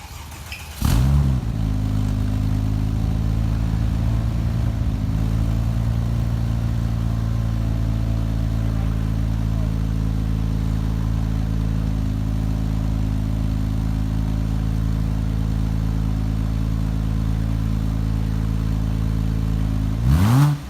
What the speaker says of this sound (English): I'm going to hit the key, see if it'll run, and let it warm up for a second.